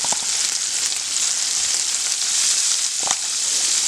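Paneer pieces seasoned with salt and turmeric fry in a pan for hotel-style paneer butter masala, giving a steady, loud, broadband sizzle throughout with a couple of brief scraping stirs and no talking.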